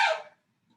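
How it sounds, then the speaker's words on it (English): A single short, sharp bark from a dog indoors, loud and close, fading quickly into near silence. "Sorry, the dog thinks we're done."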